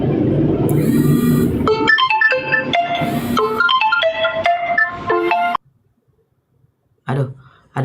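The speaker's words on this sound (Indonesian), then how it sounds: "Aduh, ada telepon." A loud phone ringtone plays an incoming call as a bright repeating melodic tune over murmured talk, then cuts off abruptly into near silence before a voice speaks briefly.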